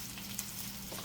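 Food frying in a pan for kkanpunggi, a Korean fried chicken dish, giving a steady, close, hissing sizzle throughout a brief moment with no talking.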